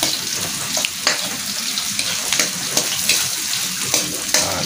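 Garlic and chili sizzling in oil in a home kitchen pan for a simple shrimp dish, a steady crackling fry with several sharper pops and clinks of stirring, close by.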